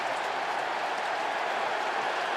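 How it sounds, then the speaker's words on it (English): A New York Giants home crowd at a 2011 NFL game against the Eagles roars in the stadium, a dense, steady wall of loud crowd noise with no break. "how happy is the New York Giant crowd as they now taunt Jackson as he walks back"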